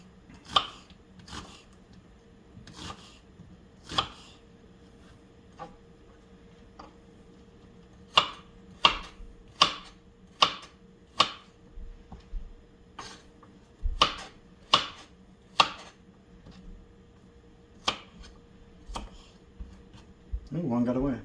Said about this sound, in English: now we want to slice our veggies